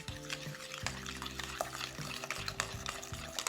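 Egg and breadcrumb stirred into a lobster filling in a bowl, with soft scraping and wet mixing strokes over a steady, tonal background music bed, no talking.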